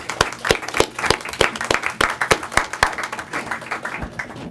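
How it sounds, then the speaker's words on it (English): Close, sharp handclaps from a modest group at a Lackawanna County Commissioners public meeting, with distinct individual claps in an uneven rhythm that thins toward the end. "Let's give a nice round of applause for Carlos."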